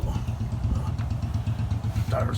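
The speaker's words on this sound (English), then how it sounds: "Motorcycle." A motorcycle passes near a scrap truck under repair, its mid-pitched engine puttering rhythmically at moderate volume, with someone speaking over it.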